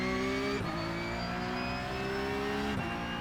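Porsche Cup race car engine in iRacing, a steady loud high-revving drone with two brief dips as gears change through a hairpin, running alone throughout.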